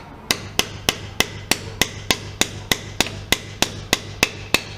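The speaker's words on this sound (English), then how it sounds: "I'll have to finish this off with a hammer" A hammer drives a fixing into place with about fourteen sharp, evenly spaced strikes over a faint steady hum, close and loud with no talking.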